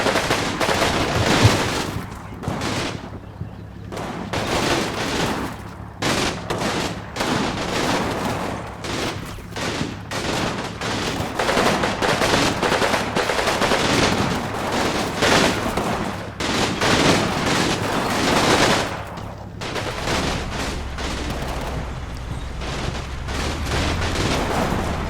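Sustained gunfire in the World War II strategy game Combat Mission Battle for Normandy, set at Arnhem Bridge during Market Garden, with dense overlapping rifle and machine-gun bursts and booms continuing loudly throughout.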